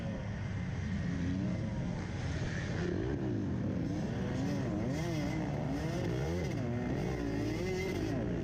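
Several dirt bikes race through a sandy hare scramble trail, engines revving and warbling up and down continuously, with multiple machines overlapping at close to mid distance.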